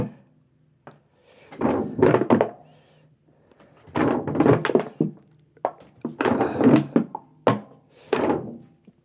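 Hands pressing down hard on a drum tom's head to seat it, giving a series of dull, muffled thumps and creaks in uneven bursts, close and moderately loud with no talk over them.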